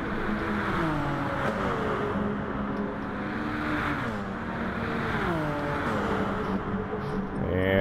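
GR1 prototype race cars in Gran Turismo Sport at Monza, engines droning loudly with rising and falling pitch as several cars shift gears and pass close through the final turn, steady throughout.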